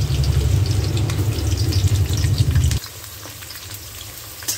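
Chopped onions hit a pan of caramelized sugar for a chicken kosha, giving a loud, close sizzle that drops sharply about halfway and settles into a quieter, softer frying crackle with small pops.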